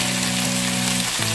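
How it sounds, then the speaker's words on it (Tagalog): Chicken pieces fry in hot oil with a loud, dense, continuous sizzle, steady from start to finish with a faint hum beneath. "Ilagay na natin ang ating chicken."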